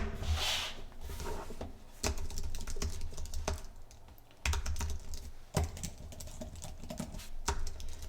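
Typing on an iPad Pro Magic Keyboard, with a steady run of soft, close key clicks and a few louder taps, all without any voices.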